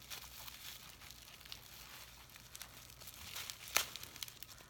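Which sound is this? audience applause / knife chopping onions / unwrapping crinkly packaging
unwrapping crinkly packaging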